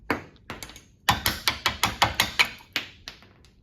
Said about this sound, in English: I'm going to use the bevel edge chisel at a slight angle there.